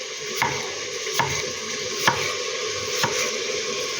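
An Ontario Camp Plus Chef knife slices through a potato in four crisp, evenly spaced cuts, each a short close thunk over a steady sizzling background.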